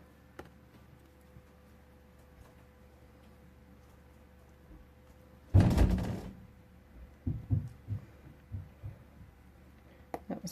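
A door opens in a quiet room, a brief loud rattle and bump midway, followed by a few softer knocks and thuds as it settles.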